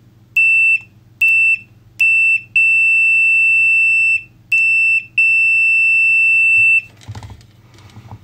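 A loud, shrill electronic beep from a Habotest HT208 clamp multimeter sounds in several bursts, some short and some held for seconds, then stops and faint handling noise follows.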